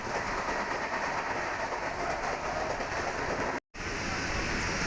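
A Mumbai local train running between Boisar and Dadar, heard from inside as a steady loud rumble with rhythmic clatter from the tracks throughout, briefly cut off near the end, with no talking.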